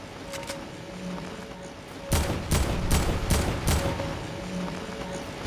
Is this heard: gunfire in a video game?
yes